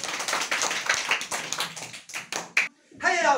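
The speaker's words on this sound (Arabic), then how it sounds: "تصفيق حال الطالب بكري عقاد" A group of children claps for a student in a classroom, brisk scattered hand claps that rise and fall, close and lively, then end in a short pause before a voice begins.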